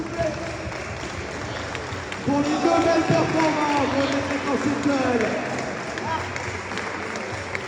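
Audience applause at a regional kettlebell sport championship, a broad steady patter of clapping that swells midway under an announcer speaking French over a public address.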